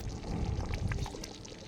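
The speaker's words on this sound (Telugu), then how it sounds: "బాగా ఉడికిన తర్వాత దాంట్లో కోకోనట్ క్రీము పైన పోసుకోవాలి" Coconut cream pours into a simmering butter chicken gravy cooked outdoors in a garden, giving a short, soft liquid splash and gurgle.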